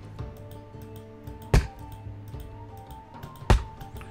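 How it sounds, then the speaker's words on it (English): Mouse clicks come while playing Roblox Lumber Tycoon 2, with two sharp, louder clicks standing out over a steady low hum of game sound and fainter ticking, with no talk. "I mean, you hear how many times I'm clicking."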